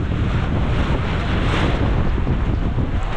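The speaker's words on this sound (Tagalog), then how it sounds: "Lakas po ng hangin." Strong wind buffets the microphone in a constant loud rushing roar, with a faint wash like surf beneath it.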